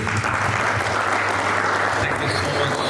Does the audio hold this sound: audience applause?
yes